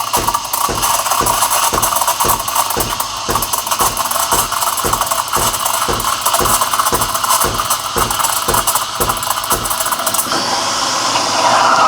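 A loud, steady espresso machine steam wand hiss, heating milk toward 140 degrees for cappuccino, runs throughout with a fast, regular mechanical pulsing beneath it, then the hiss shifts in tone near the end.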